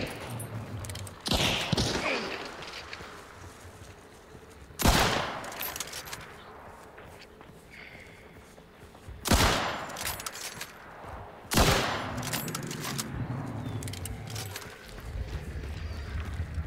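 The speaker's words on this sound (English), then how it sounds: "pushing them back into gunfire." Gunfire in the video game Hunt: Showdown, four loud separate gunshots spaced a few seconds apart over a low ambient background.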